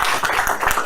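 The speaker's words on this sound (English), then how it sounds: "Let's give another round of applause." Brief burst of dense clapping from a crowd at a school board meeting, steady and close, lasting under a second.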